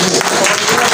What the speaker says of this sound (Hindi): आप तमाम लोगों की तालियां होनी चाहिए